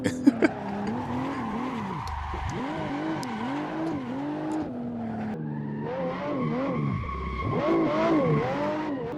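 Game car sliding sideways down a mountain course with no traction control, tires squealing in long wavering howls over a revving turbo six-cylinder engine, close and steady throughout, two brief dips where the squeal drops out.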